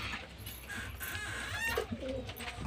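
Pigeons in their lofts coo in low, soft rolling calls, with a few faint chirps above steady background noise and a light mechanical rattle.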